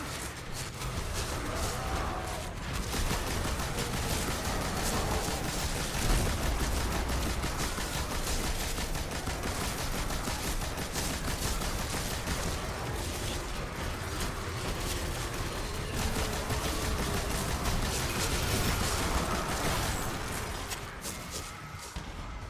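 Sustained automatic fire from the Archon's Thunder heavy machine gun in Destiny 2, a dense, continuous roar of rapid shots that stays loud and steady for over twenty seconds with no talking.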